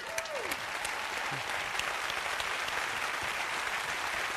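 An audience at a televised singing impersonation show gives sustained applause, a dense, even wash of many hands clapping that fills the whole stretch without a pause, with no talk over it.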